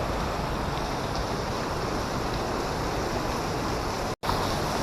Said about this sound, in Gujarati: અહીંયા પણ પાણી ચાલુ જ છે.